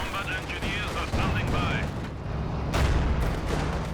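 Tank cannon shots glancing off a German Panzer in the strategy game Company of Heroes 2, heavy booms and metallic impacts over continuous battle noise, with a commentator's voice running beneath.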